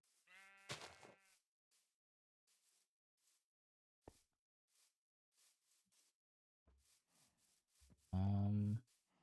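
Sheep in the Minecraft video game bleat twice, one wavering call near the start and a louder, longer one near the end, separated by quiet stretches of small taps and rustles.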